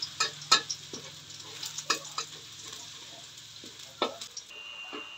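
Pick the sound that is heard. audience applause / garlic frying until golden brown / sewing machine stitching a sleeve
garlic frying until golden brown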